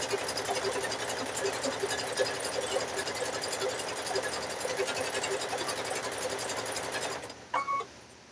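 A sewing machine stitches fabric-wrapped rope for a rope bowl, a close, steady buzzing run of rapid stitches that stops near the end with a couple of short clunks.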